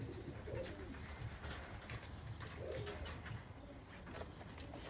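A racing pigeon coos softly in a loft, its low throaty calls repeating twice over a steady faint background hum.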